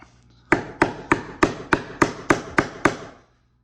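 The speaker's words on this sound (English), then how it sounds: "Crappy quality hammering." Nine evenly spaced hammer blows strike a nail into wood, each a sharp, close impact with a short ring, in a steady rhythm and then silence.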